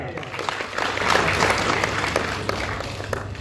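Audience applause at a credit society AGM in Mathura, a steady wash of clapping from a seated crowd that swells slightly and holds at moderate level for a few seconds.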